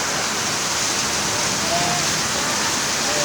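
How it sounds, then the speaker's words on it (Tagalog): Heavy rain pouring steadily during a storm, flooding into a house, a dense continuous roar of water that stays loud and unbroken throughout. "Ang lakas po ng ulan."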